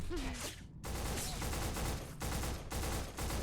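Gunfire in the video game Black: loud, rattling bursts of automatic fire broken by short pauses, heard alone without talk.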